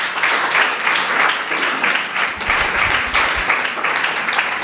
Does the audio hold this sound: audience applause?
yes